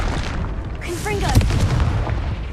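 Confringo explosion spell cast in the video game Hogwarts Legacy: one sharp, loud blast bursts out mid-clip over steady game ambience, just after a short shouted voice.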